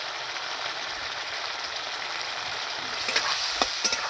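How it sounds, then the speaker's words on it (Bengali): Potatoes with ginger, cumin and chilli powder fry in a pan, giving a steady close sizzle with a few stirring scrapes and clinks toward the end. "আবার একটু নাড়াচাড়া করে নেব।"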